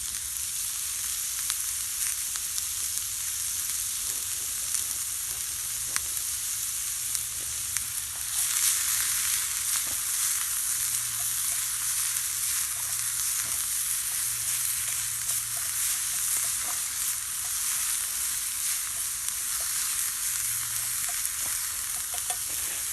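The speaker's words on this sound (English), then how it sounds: "So we're going to let the green peppers, onions, and carrots here saute up some." Green peppers, onions and carrots sauté in a mess kit over a campfire in the woods, a steady loud sizzle and hiss with scattered small crackles, continuous throughout.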